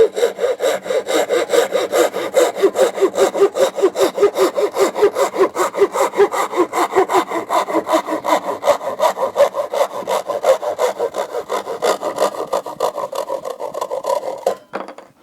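A Wolfcraft Japanese pull saw with coarse teeth cuts through MDF in fast, loud, rhythmic rasping strokes, close and continuous for the whole stretch before stopping abruptly at the end.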